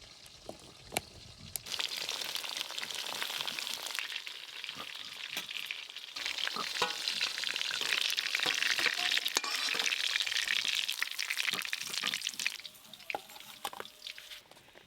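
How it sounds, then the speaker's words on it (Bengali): Steady, loud sizzling of katla fish frying in a wok, with occasional crackles and pops, continuing for several seconds without talk. "কাতলা মাছগুলো একদম হালকা করে ভেজে নেব"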